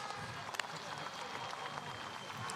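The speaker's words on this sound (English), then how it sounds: "please put your hands together for Leon Madsen with a round of applause" A speedway crowd applauds in a dense, steady patter of clapping, somewhat distant and continuous throughout, at the TAURON Speedway Euro Championship round in Grudziądz.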